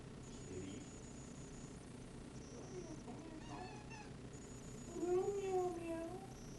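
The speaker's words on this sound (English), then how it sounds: "Kitty." A house cat gives a couple of faint, drawn-out meows indoors, the clearest one loud near the end, over a steady hum of room noise.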